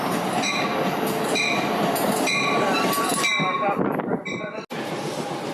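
A loud train rolls close by with rumbling wheels, screeching metallic squeals and rising tones as it moves, then drops off sharply near the end. Voices can be heard under it.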